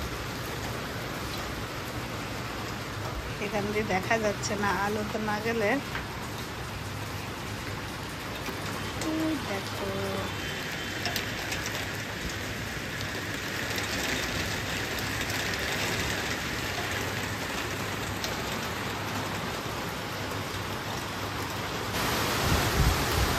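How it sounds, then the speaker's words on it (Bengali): Heavy rain pours down at night during a power cut, with lightning flashing outside, as a loud, continuous roar that lasts throughout and swells near the end, while people talk briefly early on. "এই যে আমাদের এখানে একদম ঝমঝম করে বৃষ্টি হচ্ছে,"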